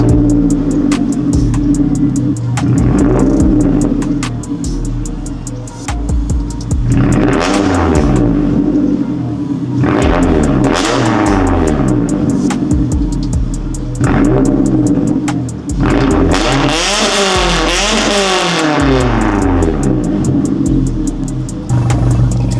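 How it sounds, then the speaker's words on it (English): A modified Scion tC engine idles with a steady low rumble, then revs up several times when warm, the exhaust roaring and falling back between blips, loud and close. "I'll give you guys an idle startup, a couple revs when it's warm"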